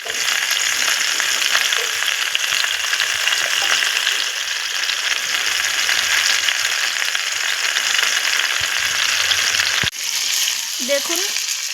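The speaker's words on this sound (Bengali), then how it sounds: "দিয়ে এটাকে আমি একটু ভালোভাবে নাড়িয়ে কষে নেব।" Cauliflower, potatoes, tomato and slit green chillies are stir-fried in a pan. A loud, continuous sizzle runs close throughout, with a sharp clack near the end as the spoon is used, and no one talks.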